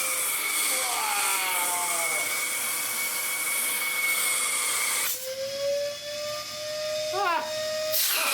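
A Hoover Constellation vacuum cleaner runs with a loud, airy hiss and whine. Its tone sweeps in pitch early on, then settles into a steadier, higher hum that shifts again near the end. No talk.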